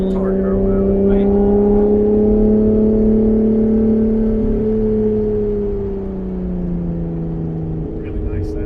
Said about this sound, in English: Really nice sound, the V6. Definitely doesn't sound like a Camry.